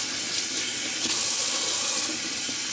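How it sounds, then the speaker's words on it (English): Water from a tap runs steadily into a black shaving lather bowl as it is rinsed, a close, continuous splashing hiss. "Let me just rinse that out real quick"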